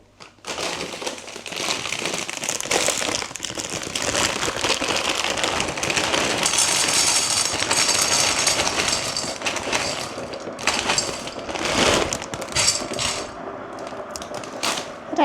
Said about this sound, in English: whilst the kettle's boiling